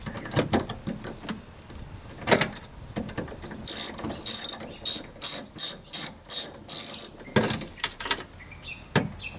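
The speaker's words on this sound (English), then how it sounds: "And then start tightening up your mounting bolts." A ratchet tightens the mounting bolts of a 1996-2002 Toyota 4Runner side mirror: a few scattered clicks, then a close, loud series of about eight evenly spaced bursts of rapid ratcheting, with no voices.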